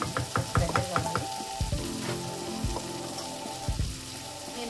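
Onions frying in a pan for a garlic gravy, with a dense steady sizzle under clattering stirring and scraping strikes that come quickly at first, then more sparsely.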